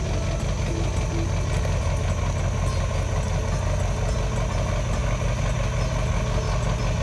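Truck engine idling and rumbling steadily, close and continuous, while reversing a trailer carrying a narrow tiny house, about 8 feet wide in the middle.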